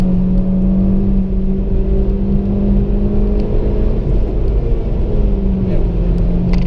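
A race car re-accelerates on the Nürburgring, its engine droning loudly and steadily from inside the cabin with a sustained tone that shifts pitch near the end.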